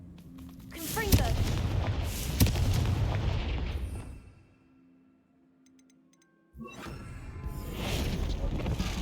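A fiery Confringo spell blast in the Hogwarts Legacy video game, a loud booming burst with sharp cracks in a dense battle din, falling away to near silence before the clamour returns.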